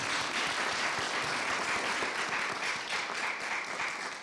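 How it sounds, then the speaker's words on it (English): Applause for a mayor at a Michigan community event for a bus loop initiative, a dense continuous wash of many hands clapping, heard at a moderate distance and fairly quiet, tapering slightly at the end. "Can we give Mayor Duggan another applause?"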